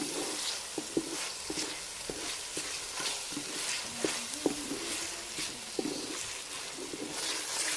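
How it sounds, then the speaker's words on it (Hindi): A steady, faint sizzle of garlic paste frying in a pan, with occasional soft scrapes and stirring clicks from a utensil. "फिर लहसुन का पेस्ट डाला और 4 से 5 मिनट इसको पका लेंगे।"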